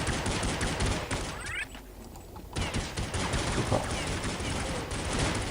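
Rapid gunfire in a first-person shooter video game, with dense bursts of automatic shots that stop for a moment and then resume, loud and continuous in the foreground.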